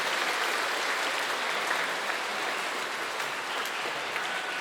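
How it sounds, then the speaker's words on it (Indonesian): Steady, even applause from an audience at a Good Friday church tableau performance, fairly distant and continuous with no pauses. "Sekali lagi tepuk tangan yang semeriah-meriahnya."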